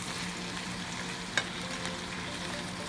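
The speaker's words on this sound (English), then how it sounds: "We're just going to let this saute a little bit" Mushrooms sauté in a pan for pork chops, a steady, soft hiss of frying with one small clink midway, no talking.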